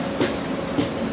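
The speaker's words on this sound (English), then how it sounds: "This is northbound local train 649 making all stops to San Francisco." Northbound local commuter train riding toward San Francisco, heard from inside as a steady, fairly quiet rumble and hiss with faint rhythmic clicks, no voices.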